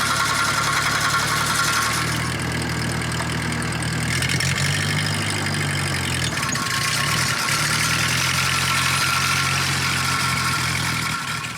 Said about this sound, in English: The grass bested the mower